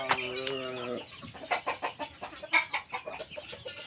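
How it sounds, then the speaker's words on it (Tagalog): Chickens on a mahogany eco farm cluck in quick repeated bursts, close and fairly faint, after a brief rooster-like call at the start. "Yan ang manok natin guys."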